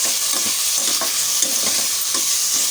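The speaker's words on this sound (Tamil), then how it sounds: "தக்காளி கொஞ்சம் வதங்கட்டும்" Three medium tomatoes frying in oil with chili, curry leaves and ginger for a cabbage dish, a loud close continuous sizzle with rhythmic stirring scrapes about every half second.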